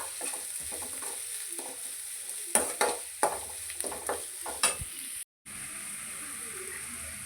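Tomatoes frying in a pan for avarekalu upma, a steady sizzle with scraping stirs and a few sharp utensil knocks against the pan, close up, followed by a brief dropout and continued low frying hiss.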